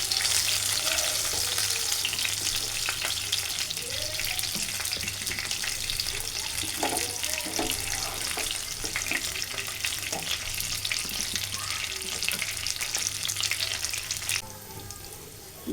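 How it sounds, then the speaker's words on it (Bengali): Tilapia fish and chopped onion fry in oil in a frying pan, a loud, continuous crackling sizzle with occasional stirring scrapes, steady throughout and easing slightly at the very end. "যেই ফ্রাই প্যানে মাছ ভাজি করছি সেই ফ্রাই প্যানে যে তেল ছিল, এই তেলে আমি দিয়ে দিলাম পেঁয়াজ কুচি।"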